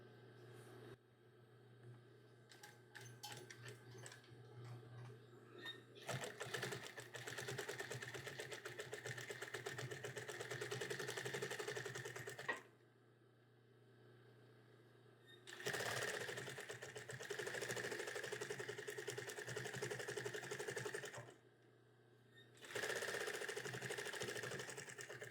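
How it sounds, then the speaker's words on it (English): A sewing machine back stitches the seam of a cat hooded towel, running in three fast bursts of rapid mechanical stitching separated by short pauses, close and alone. "We're gonna back stitch at each end."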